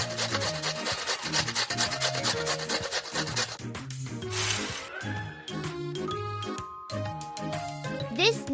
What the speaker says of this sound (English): We need to grate this.